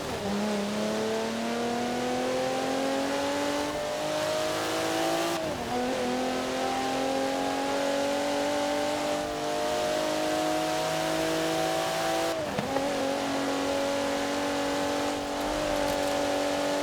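2016 Alfa Romeo Giulia Quadrifoglio in Forza Horizon 4, its engine revving and climbing through gears in repeated rising sweeps with shift drops between them, steady and continuous with no talk.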